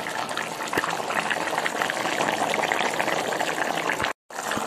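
Papaya stalk dalna gravy simmering and bubbling in a pan, a steady soft sizzle and burble that carries on evenly before a brief cutoff near the end.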